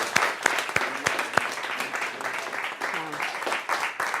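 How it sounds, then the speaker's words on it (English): An awards-show audience at a Southern Oregon television awards event bursts into steady applause, with sharp individual claps near the front over a dense crowd patter, and a few faint whoops mixed in. "Let's give you guys a cheer, everybody here."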